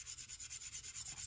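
A Cold Steel Air Lite blade is swiped repeatedly across a KME sharpening stone, giving about a dozen soft, evenly spaced rasping strokes that are close and quiet, with no voices.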